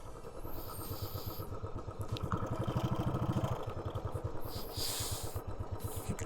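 A motorcycle on a desert ride in Rajasthan, its engine thumping in a steady rapid pulse close by, swelling slightly mid-way with wind noise and clatter throughout.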